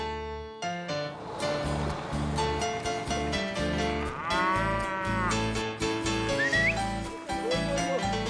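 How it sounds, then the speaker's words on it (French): Cattle moo in a hilly pasture of bocage meadows in Colombia's Cauca department, several drawn-out low calls under music with a whistle, moderately loud. "On y élève des vaches aussi à l'aise que dans les alpages."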